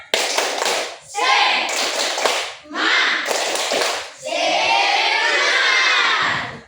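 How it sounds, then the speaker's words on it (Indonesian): Schoolchildren standing in a classroom perform a rhythmic spirit clap, loud bursts of fast clapping and shouting in several rounds with short pauses between them, ending in a long cheer. "Supaya bersemangat, kita tepuk semangat dulu."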